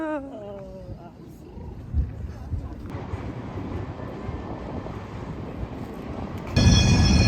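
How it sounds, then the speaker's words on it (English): Porto metro tram rolling across a large bridge, a steady low rumbling roar of wheels on rails, fairly close, swelling louder near the end. "a metro does come across this bridge"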